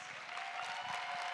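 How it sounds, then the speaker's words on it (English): An audience at an awards ceremony gives sustained applause: dense, even clapping from many hands fills the room at a steady level throughout, with a faint tone running beneath it. "Please give them one final tremendous round of applause."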